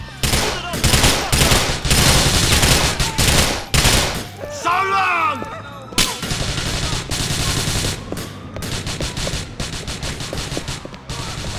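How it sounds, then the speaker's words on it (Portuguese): Bursts of automatic gunfire and scattered shots in the video game Grand Theft Auto IV, loud and dense throughout with a brief lull partway, alongside other game sound effects. "Quem é que tá atirando aí"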